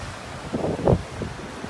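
Sea waves wash onto a wide beach at Ostrowo, a brief soft surge of breaking water swelling and fading under light wind noise, with no voices.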